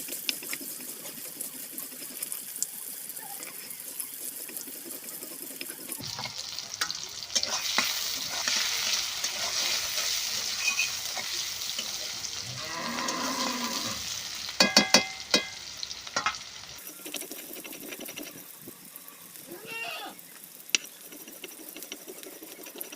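Chopped onions frying in a pan for Bengali egg curry, soft stirring and a steady sizzle, with a louder stretch of frying in the middle and occasional utensil clinks.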